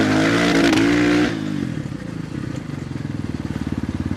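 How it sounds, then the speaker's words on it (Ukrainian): A KOVI 300 Lite F motorcycle on a test ride after assembly, its engine revving loudly at first, then settling into a steady, rapidly pulsing idle-like chug up close. "Робимо пробний виїзд."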